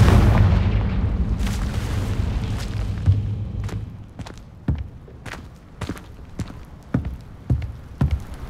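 Fiery spell blasts in the Hogwarts Legacy video game, a rumbling burst at the start followed by a run of sharp, punchy bangs and impacts, loud and close.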